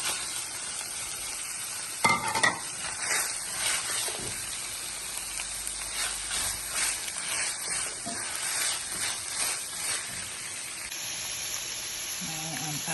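Onions hit a hot pan with a sudden crackle, then a continuous hissing sizzle of frying goes on, with occasional stirring scrapes, close and fairly quiet.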